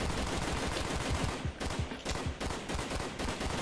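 Gunfire in Call of Duty: Black Ops, a continuous loud burst of rapid automatic shots with dense crackling reports, no talking over it.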